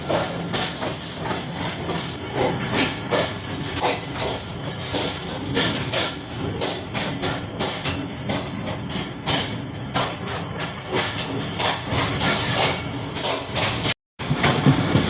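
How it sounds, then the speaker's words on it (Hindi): Sir Syed Express rolls toward Bahawalpur railway station with a steady, fairly loud rumble and rhythmic clickety-clack, broken by a brief dropout near the end. "अब सर सैयद एक्सप्रेस नवाबों के शहर कुछ बावलपुर रेलवे स्टेशन पे अप्रोच बना रही है"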